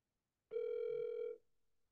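A telephone call rings once, a single clear electronic tone lasting almost a second and then fading to a faint tail, alone against silence.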